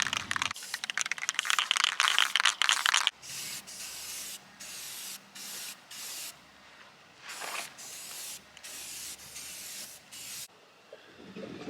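An aerosol can sprays paint onto a van's custom roof rack in repeated hissing bursts, a long loud pass first, then shorter spurts separated by brief pauses.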